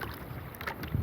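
A small remote-controlled model boat moves slowly ahead on the sea, giving a brief burst of splashing water and a low motor-like rumble with some wind buffeting the microphone, close and fairly loud.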